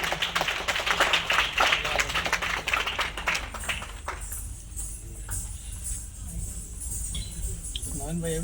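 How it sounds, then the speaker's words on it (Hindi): Audience at the All India artist association award function clapping loudly for the performing artists: a dense burst of applause for about four seconds, then fading into quieter background noise with voices talking. "एक बार जोरदार तालियां इन सभी कलाकारों के लिए"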